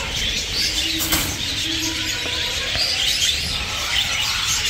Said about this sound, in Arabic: طيور حب